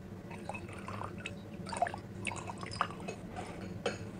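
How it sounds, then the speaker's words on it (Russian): Sweetened water drips slowly into homemade French-style absinthe, a soft irregular patter of close drops and trickles with no talking. "Просто разбавление подслащенной водой."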